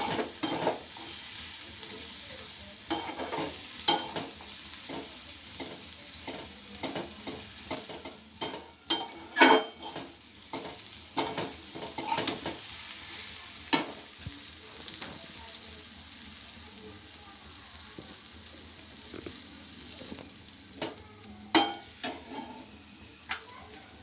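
Sugar is stirred into vermicelli in a pan for kheer, with scattered scraping clinks of a spoon against metal and soft sizzle, the strokes irregular and close, beneath a faint steady hum.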